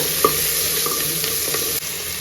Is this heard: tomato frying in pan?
yes